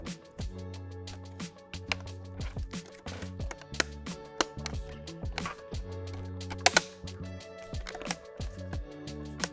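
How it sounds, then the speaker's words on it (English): Plastic bottom cover clips of an M4 Mac Mini snapping into place as the cover is pressed along its edges, a run of sharp close clicks and taps at irregular intervals, with no talk. "pressing along the edges until you hear all four clips click back into place"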